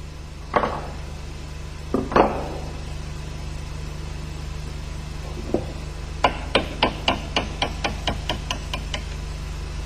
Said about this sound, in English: Unscrew the fastening nut and tap out the bolt.